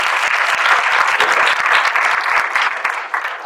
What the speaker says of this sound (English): Let's give them, please, a round of applause.